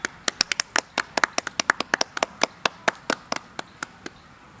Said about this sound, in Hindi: ताली मार है ना।